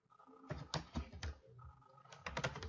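Typing on a computer keyboard while entering a short command, two quick bursts of clicking keystrokes separated by a brief pause, close and fairly quiet with no talk.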